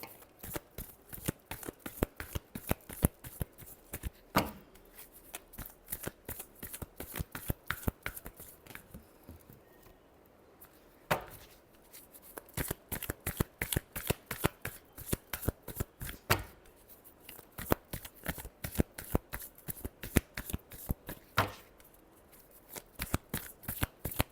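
A deck of tarot cards is shuffled over and over, close and crisp, with rapid riffling bursts broken by short pauses before the shuffling starts again.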